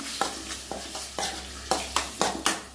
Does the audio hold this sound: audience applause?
no